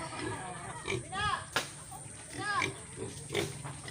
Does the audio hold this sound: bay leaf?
no